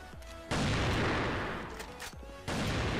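Sniper rifle gunfire from an AWM in the shooter game CrossFire, sharp loud shots near 0.5 and 2.5 seconds with some noisy combat sound in between, no talking.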